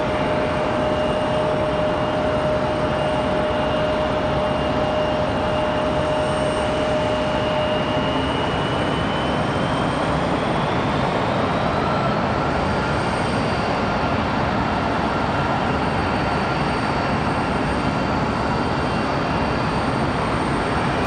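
An arriving aircraft at Raleigh-Durham International Airport gives a loud, sustained jet roar with a whining tone that rises and shifts as it passes, continuous for the full length.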